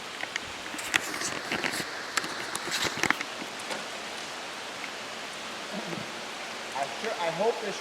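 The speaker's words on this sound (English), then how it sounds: "I hope this rain continues." Rain falling outside on a roof during dry weather: a steady, even hiss of rainfall throughout, with scattered nearby knocks and handling noises early on and faint voices toward the end.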